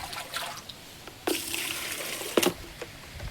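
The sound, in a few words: washing a cloth in water after washing a bicycle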